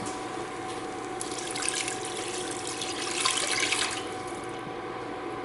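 Water, about two and a half cups, runs steadily into a pot for a one-pot chicken Alfredo, a continuous splashing stream that swells briefly midway.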